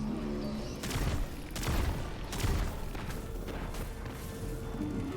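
Lucent Blade glaive shots fire in Destiny, a rapid fusillade of booming blasts with several heavier impacts at an irregular rhythm, dense and continuous throughout.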